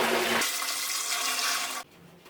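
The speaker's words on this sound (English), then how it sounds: "I'm gonna add 1 liter of boiling water." About a liter of boiling water pours into a toilet bowl, a loud splashing rush running for roughly two seconds before cutting off abruptly, leaving a faint hiss.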